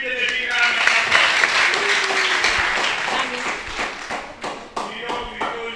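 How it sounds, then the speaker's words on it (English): Crowd applause for panelists at a national youth dialogue on reforms in The Gambia, loud dense clapping that swells then gradually thins out, with scattered voices over it. "Can we give them a big round of applause?"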